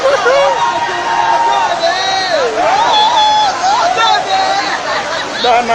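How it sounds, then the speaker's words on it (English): Marchers at a Biafra rally for the IPOB leader Nnamdi Kanu chant and cheer outdoors in a loud, continuous babble of many voices, with raised calls and whistle-like shouts cutting through the crowd. "Overseas crowd, man."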